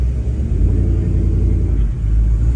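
A 1969 Chevrolet Chevelle engine runs close by with a steady, deep low rumble that holds even throughout, with no voices.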